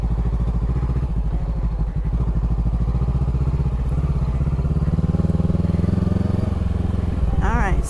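A Honda CB500X motorcycle rolls slowly through a backyard skills course, its engine holding a steady low rumble close by with faint clatter, and a person talks over it.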